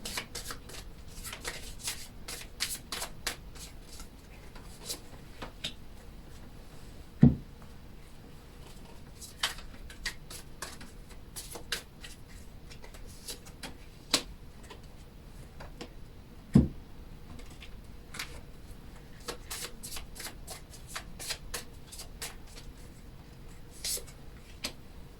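Oracle cards are shuffled during a tarot and crystal ball reading, giving a steady run of crisp papery flicks and riffles with two sharper taps, close and fairly quiet, with no talking.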